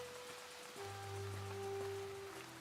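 Rain falls onto a courtyard in a steampunk Japanese turn-based role-playing game, a soft, constant patter mixed with steady tonal hums from game music, faint and without speech.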